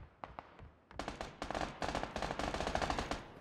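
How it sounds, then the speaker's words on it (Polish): Gunfire in the video game PUBG, with a few sparse shots at first, then rapid bursts of automatic fire crackling in quick, uneven volleys, fairly distant and moderately loud. "Uważaj, tam się strzelają przede mną."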